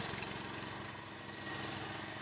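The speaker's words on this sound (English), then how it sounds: "now he is mowing again" A petrol lawn mower drones steadily while mowing a paddock. Its engine hum is faint but continuous and unbroken from start to finish.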